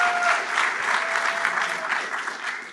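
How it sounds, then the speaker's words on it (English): Sincere audience applause at an onstage interview event, a steady wash of many hands clapping, fairly close and loud, holding for a few seconds before easing off slightly at the end. "I think that was actually sincere applause for you."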